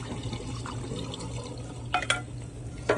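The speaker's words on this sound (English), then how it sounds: "And now we're going to drain it completely," Water drains off cooked tapioca pearls in a soft, continuous trickle, with a few brief splashes near the end.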